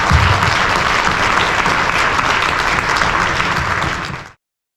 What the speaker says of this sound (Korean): 여러분 진안순 회장님께 다시 큰 박수로서 환영을 부탁합니다